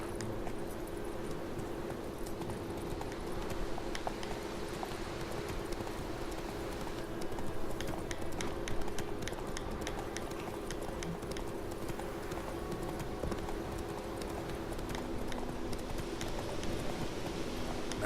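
Roach the horse galloping in The Witcher 3: Wild Hunt, a steady fast clip-clop of hooves running continuously, close and moderately loud with no voices over it.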